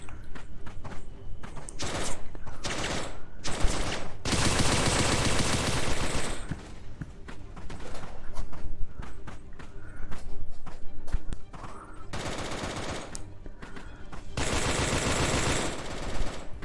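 Automatic gunfire rattles in the VR shooter Special Force VR, with several long, loud bursts of rapid shots separated by short pauses.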